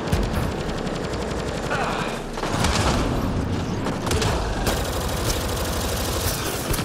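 Rapid gunfire from weapons in the PS4 sci-fi shooter Mass Effect: Andromeda, dense bursts of shots with booming impacts running continuously and loudly through a busy battle mix.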